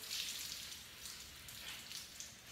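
Baking soda mixture poured over wet hair gives off a faint, close fizzing sizzle, soft and continuous like light crackling.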